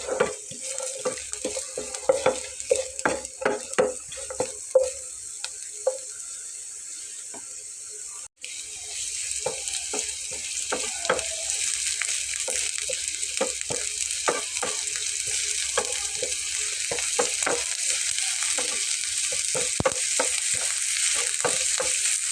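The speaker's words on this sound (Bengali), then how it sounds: "তো 5 মিনিটের মতো এটাকে ভেজে নিয়ে" Food frying in a pan for a vegetarian evening snack, starting with scattered clicks and taps, then after a sharp knock a steady, hissing sizzle settles in and continues close and even to the end, with no voices.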